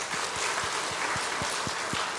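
Church congregation clapping at an adult Bible school gathering, a rhythmic unison beat of about eight claps over a roomy crowd noise.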